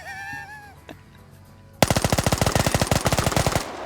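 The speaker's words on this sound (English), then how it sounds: "I hear shots landing" Rapid automatic gunfire rattles out in a fast, loud burst of evenly spaced shots during a video game match, after a brief tonal in-game chime.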